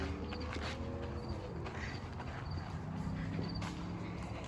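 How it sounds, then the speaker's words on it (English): A horse moves about in a veterinary clinic's horse room, hooves clip-clopping on a hard floor in a steady run of close, distinct steps, with no talking. "there's a horse in here. Must be the horse room."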